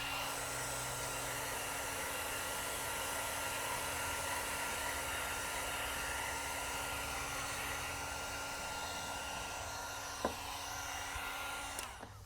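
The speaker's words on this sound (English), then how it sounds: "We recommend using some heat gun." A heat gun blows a steady, even whoosh close by for the whole stretch, warming reflective vinyl wrap on a Tesla Model Y Juniper refresh liftgate, with one brief click near the end.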